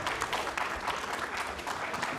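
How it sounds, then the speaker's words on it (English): Small studio audience applauding, a steady patter of claps from a few people held at even loudness throughout, with no voices over it. "Nice little round of applause by the select few that get to be inside the studio"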